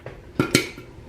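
Popcorn with M&Ms pops inside a pot, a few loud, sharp clatters against metal, the two strongest close together near the middle of a short moment.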